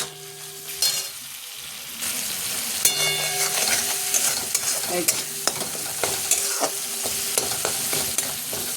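Spice paste with salt, turmeric and Kashmiri chili powder frying in a pan for a rui methi dish, a close crackling sizzle punctuated by repeated sharp spatula scrapes and clinks.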